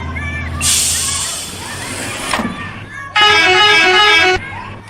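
Loud bus horn blasts in a game, a long honk then a second brighter one, over a steady engine rumble.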